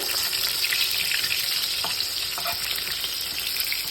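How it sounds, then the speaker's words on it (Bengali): Chicken pieces frying in oil in a wok for chilli chicken, a steady close sizzle and crackle that continues evenly throughout with a few faint clicks. "তো চিকেনগুলো এই যে এখন ফ্রাই হচ্ছে"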